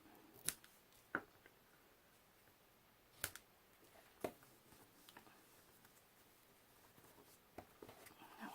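Scissors snip ribbon after a double knot is tied, giving a handful of faint, sharp, separate cuts spaced irregularly over a quiet room background.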